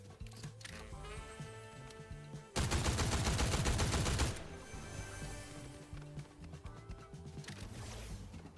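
A shotgun in Fortnite fires amid gameplay noise, with a loud burst of rapid crackling shots in the middle standing out over quieter clicks and rattles of background action.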